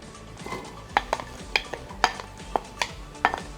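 Chopped onions stirred in a pot: a steady low sizzle with regular sharp clinks and scrapes of a spoon against the pot.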